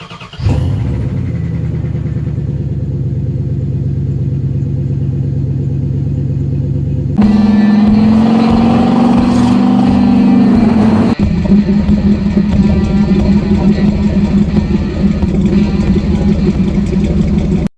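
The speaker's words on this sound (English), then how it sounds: "Incoming lifter tick." A 1996 Dodge Dakota engine idling and running steadily up close, with a dense mechanical rumble whose tone shifts partway through, carrying a fine ticking texture consistent with lifter tick.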